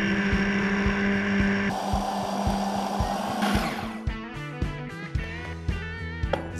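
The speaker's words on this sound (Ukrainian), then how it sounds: "Просто дрібно збиваємо їх в нашому блендері." A kitchen blender purees frozen berries for berry-vanilla ice cream, a loud steady motor whine that cuts off midway, followed by a few clattering knocks and settling sounds.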